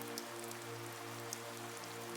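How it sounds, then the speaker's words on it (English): Heavy rain pouring down at a lake cabin, a dense, steady hiss of falling water with scattered droplet taps, constant and enveloping, alongside a low steady hum. "the rain comes down in a deluge"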